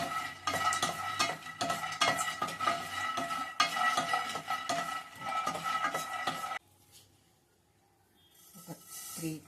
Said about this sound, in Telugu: పల్లీలు వేయాలి స్టవ్ సెమీ మీద పెట్టుకొని వేయించాలి